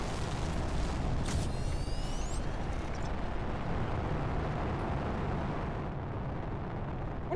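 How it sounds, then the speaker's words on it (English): Rocket launching in The Planet Crafter video game, a loud sustained roaring blast with a sharp burst near the start and a rising whistle, the rumble holding steady before easing slightly. "Much like this rocket is going to boost"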